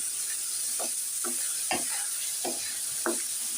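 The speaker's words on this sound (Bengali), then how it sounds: "আর শুকনো মরিচের গুঁড়া এক চামচ দিয়ে এবার নেড়ে চড়ে নিচ্ছি" Soaked lentils with chili powder being stirred in a pan, a series of about six distinct scraping strokes at an uneven pace over a soft, constant sizzle, close by with no voices.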